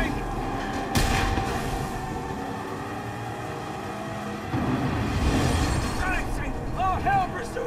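Gunshots aimed at a vehicle fuel tank in the game Mad Max, sharp blasts cutting through a constant engine roar and road rumble, with voices speaking over the din.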